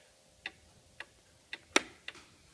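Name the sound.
antique Black Forest cuckoo clock ticking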